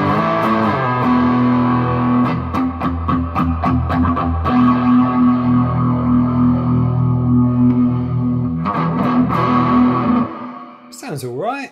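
Electric guitar played through a Line 6 Spider amp with heavy distortion and reverb, sustained chords and riffs ringing loudly and continuously for about ten seconds before a bend and fade.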